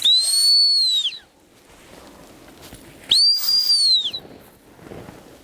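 Two sharp, high blasts from a dog training whistle used on a bird dog, each lasting about a second, separated by a couple of seconds of quiet outdoor ambience.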